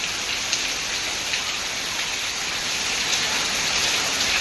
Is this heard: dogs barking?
no